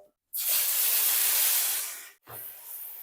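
A loud, sudden hiss and sizzle as batter-coated fish hits hot oil over medium heat, fading slightly, then a brief pause and a softer continued sizzle.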